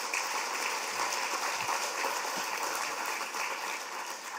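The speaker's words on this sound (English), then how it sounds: "So will you please give him a round of applause?" A festival audience applauds in a soft, even patter heard from a distance, the many hands blending into a rain-like wash of clapping that holds steady throughout.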